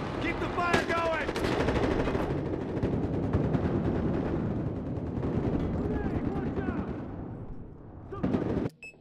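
Gunfire in Battlefield Hardline: dense, loud bursts of automatic weapon fire and explosions rattle almost continuously in close succession, with voices shouting underneath, before cutting off abruptly near the end.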